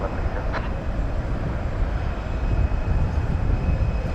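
An American Airlines jet landing at Dallas Fort Worth Airport, heard as a steady broadband engine roar at moderate distance that holds throughout with no other clear sounds.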